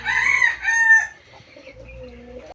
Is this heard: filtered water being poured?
no